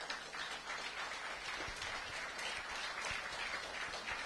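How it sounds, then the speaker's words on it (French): Sustained applause from an audience at a debate on Lyme disease, a dense, even roar of many hands clapping, fairly distant and soft, continuing unbroken for several seconds. "Les trois intervenants, il faut les applaudir très très fort."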